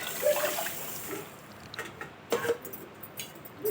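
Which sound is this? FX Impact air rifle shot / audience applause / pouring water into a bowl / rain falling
pouring water into a bowl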